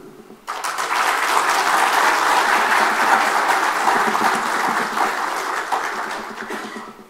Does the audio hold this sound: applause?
yes